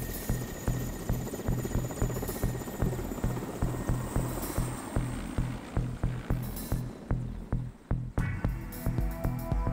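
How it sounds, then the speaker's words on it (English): Steady rhythmic thudding of Mi-8 helicopter rotor blades over a constant engine whine, loud and close as if heard from inside the cabin, flying over Kamchatka in the Russian Far East. "We board another leftover of the Soviet war machine, an Mi-8 helicopter."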